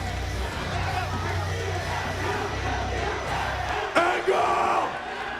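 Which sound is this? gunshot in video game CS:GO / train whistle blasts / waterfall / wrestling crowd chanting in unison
wrestling crowd chanting in unison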